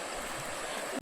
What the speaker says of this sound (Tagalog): Dito kami sa ilog ngayon.